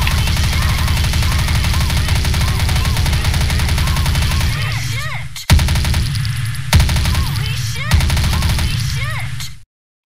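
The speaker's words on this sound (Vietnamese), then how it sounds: "Bắn tẹt ga không hết đạn." Sustained rapid MP5 submachine gun fire in the shooter game Truy Kích, loud and continuous for about five seconds, then three further bursts separated by brief gaps before cutting off abruptly.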